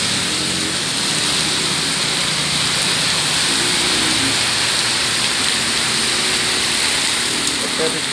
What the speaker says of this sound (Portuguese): Chovendo pedra de gelo